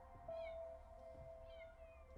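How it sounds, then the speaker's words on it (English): Cats meowing in a video game, two drawn-out rising mews a second apart over a faint steady electronic tone and low background hum. "Oh, you can hear the kitties."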